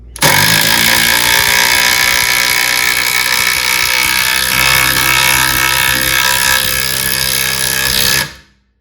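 Metabo HPT impact driver sinking a lag bolt into wood, a loud continuous rapid hammering rattle lasting about eight seconds and then stopping abruptly.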